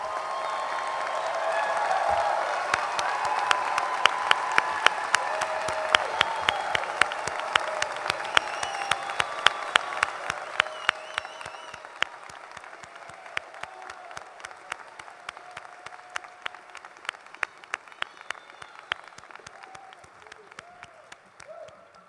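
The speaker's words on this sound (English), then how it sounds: "You can never clap enough for all of these graduates, right?" A ceremony audience applauds medical school graduates with sustained, dense clapping that gradually thins and fades, while a speaker's voice sounds faintly over it.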